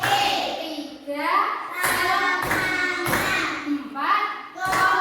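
Clap-four concentration game in a classroom: group chanting with several sharp, near hand claps landing in a steady rhythm between the voices.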